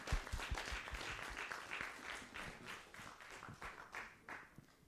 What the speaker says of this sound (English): Let's have a huge round of applause for him.